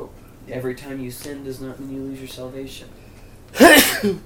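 A single sharp sneeze bursts out loudly near the end, following a man's steady speech in a quiet room.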